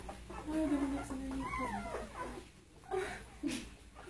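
A dog at an animal rescue gives several short, high whimpers and yips close by, with soft rustling and room noise between them.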